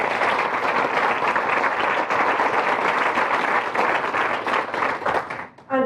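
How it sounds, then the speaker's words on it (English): Applause from a conference audience at a rural organisation's anniversary event, many hands clapping steadily and fairly loudly before fading out, with a voice starting to speak at the very end. "So I think a special round of applause."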